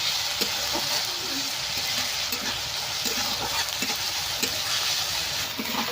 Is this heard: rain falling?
no